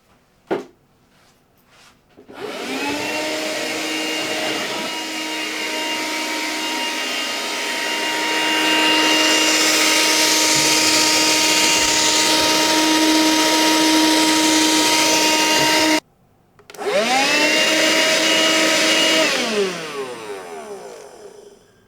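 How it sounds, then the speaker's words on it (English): A small vacuum cleaner whines up to a steady high drone, shuts off briefly, then starts again and winds down near the end. "so let's get my little vacuum cleaner."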